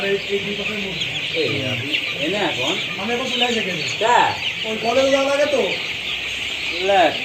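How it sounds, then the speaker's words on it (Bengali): Many broiler parent-stock chickens and roosters cluck and call on a rural Bangladeshi farm, a dense, steady chorus of overlapping clucks and crows, fairly close, under a constant background din. "এগুলো মোরগ না?"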